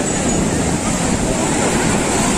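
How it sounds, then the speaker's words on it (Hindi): Sea waves surge at Marina Beach in Chennai, a loud continuous roar of rushing surf with wind noise, close to the microphone and without clear speech. "इतनी तेज पानी आ रहा है।"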